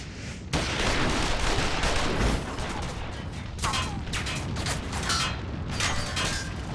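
Gunfire and battle mechanisms in Final Fantasy XIV: Stormblood, a dense loud burst of shots and clanking opening sharply, then a steady clatter with repeated sharp cracks and metallic creaks.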